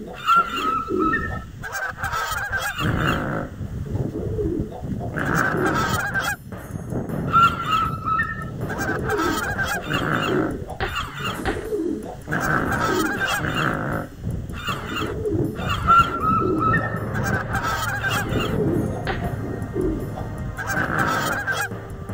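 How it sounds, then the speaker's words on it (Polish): Flocks of geese honk continuously in the Kajko i Kokosz adventure game, a dense, repeating chorus of loud nasal calls over a steady game soundtrack. "Ptaszyska ominięte."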